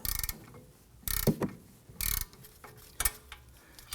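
A ratchet wrench loosens a caliper bracket bolt on the rear brake of a 2003-2014 Volvo XC90, giving short bursts of quick clicking with metallic clinks between them, close up and with no speech.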